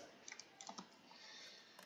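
Fingers click quickly on a computer keyboard, a faint close run of light taps in small bursts during a BattleBits training-course session.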